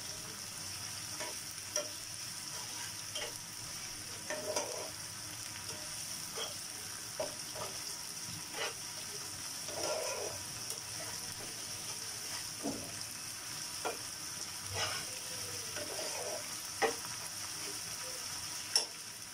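Ginger paste and cumin paste are mixed into a pan and fried for an egg curry: a soft, continuous sizzle under repeated light scrapes and taps of a spoon stirring, fairly quiet and close.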